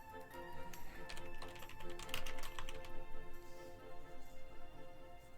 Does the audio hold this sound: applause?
no